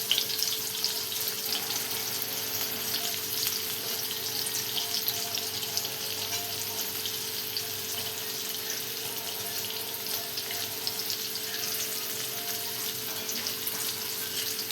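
Small stuffed bitter gourds frying on a tawa after being turned over, giving a continuous dense hiss and crackle of hot oil, close and fairly loud.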